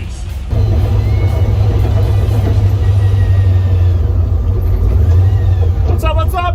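Loud, steady engine rumble from a Ford Falcon XY drift car with a swapped LS engine as it drives on the street, heard from inside the car, with a brief rise in the noise near the end.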